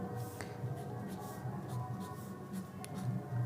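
A pen writes numbers on paper while working a railway-exam arithmetic problem, giving soft, faint, irregular scratching strokes with small taps over quiet room noise.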